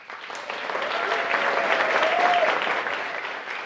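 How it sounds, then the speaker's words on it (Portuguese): An audience applauding at a panel discussion on possible Africas, a sustained burst of clapping that swells and holds for a few seconds, with a voice briefly over it. "Aplausos."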